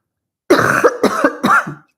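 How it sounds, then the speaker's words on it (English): Three quick, harsh coughs from a close voice, evenly spaced in a short burst, then quiet. "let me cough real quick"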